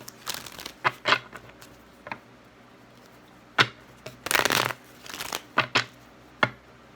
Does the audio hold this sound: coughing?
no